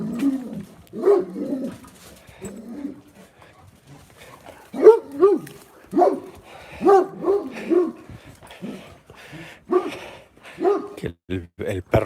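A guard dog barks on a residential street in Bilbao near Ciudad Jardín, repeated short barks and yelps in bursts at moderate distance, with birds also calling.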